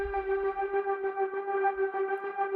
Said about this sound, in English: Let's say we go with burned strings.